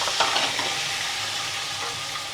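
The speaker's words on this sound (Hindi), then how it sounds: "हम इसमें थोड़ी सी बारीक प्याज डालेंगे" Finely chopped onion hitting hot mustard oil, a loud dense sizzle that hisses steadily for a couple of seconds with faint stirring underneath.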